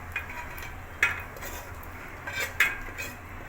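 A metal spoon clinks and scrapes against a pan as marinated paneer is tipped into gravy, giving a few sharp, separate clanks over a quiet kitchen background.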